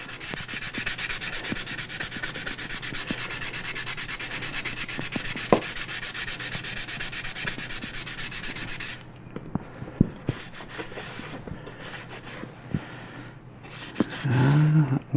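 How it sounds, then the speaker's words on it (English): Wet sanding on a plastic model kit makes a steady, dense scratchy rubbing for several seconds, then stops and gives way to faint scattered taps and handling noises close by. "When I wet sand a kit"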